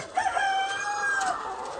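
A rooster crows in a long, drawn-out call close by, with White Leghorn hens clucking faintly around it.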